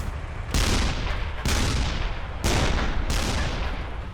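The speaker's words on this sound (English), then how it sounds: "The South Vietnamese open fire with deadly accuracy." South Vietnamese forces fire on approaching NVA tanks, including a T-54, at a bridge during a tank battle. Four loud, close blasts each swell into a long, decaying roar of gunfire.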